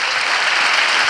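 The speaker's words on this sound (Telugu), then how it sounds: "చప్పట్లు కొడదాం గట్టిగా" A church congregation claps loudly and steadily during a Telugu sermon, a dense, even wash of applause with no speech over it.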